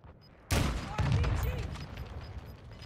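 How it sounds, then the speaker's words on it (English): An RPG fires in a video game with a sudden loud blast, followed by a second heavy burst and a long rumbling tail that fades slowly, with faint talk in the background. "He's shooting an RPG, yes."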